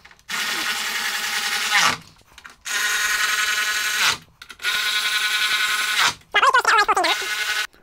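A handheld power tool spins up in three long, loud whirring bursts with short pauses, then a fourth burst wavers and stutters, all during a winch installation on a new Land Rover Defender.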